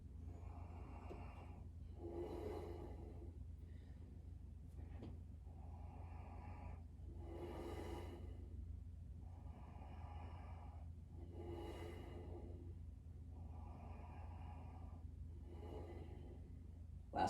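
Slow, steady breathing held through a yoga pose in a men's yoga class, with several long, even inhale and exhale swells rising and falling in a regular rhythm close to the microphone, no talking.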